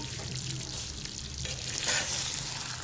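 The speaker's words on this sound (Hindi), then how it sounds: "पूरे 10 मिनट इसे मैंने मीडियम फ्लेम पे रख दिया था।" Afghani chicken gravy cooks on a medium flame, giving a steady, close sizzle and bubbling hiss that runs continuously without a break.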